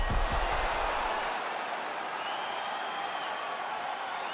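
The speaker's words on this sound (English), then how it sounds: "the crowd voicing its appreciation after that crazy sequence in the previous round" Arena crowd in the EA Sports UFC 5 fighting game applauding and cheering between rounds, a steady broad roar of clapping that holds at an even level throughout.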